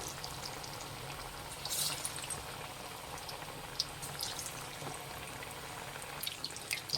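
Kebab frying in oil on a high flame for an Ugadi hosatodaku non-veg meal, a soft continuous bubbling sizzle with scattered small pops, faint and steady.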